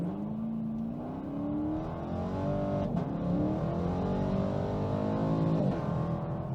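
A 2016 Chevrolet Camaro 2SS pulls hard through a 0-60 run with its tires spinning, a loud, continuous V8 roar climbing steadily in pitch with a brief dip at each gear change, heard from close by with no talking.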